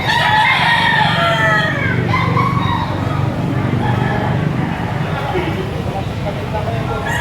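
Roosters crow and chickens cluck in a busy flock at a market in Padre Garcia, Batangas, with people talking over the birds and traffic rumbling in the background.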